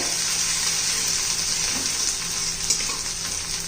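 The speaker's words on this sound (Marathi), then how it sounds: "मिरची लसणाचा ठेचा घालायचा आहे तेलामध्ये चांगला परतून घ्यायचा" Chili garlic thecha sizzles in hot oil in a pan, a steady close crackle and hiss that runs evenly throughout with no voices.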